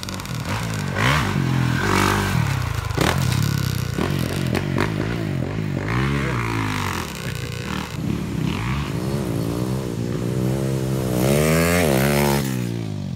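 A brand new Honda CRF 450 dirt bike rides a pit bike track, its engine revving up and down close by with rising and falling pitch sweeps and gear changes, plus some scraping and clatter.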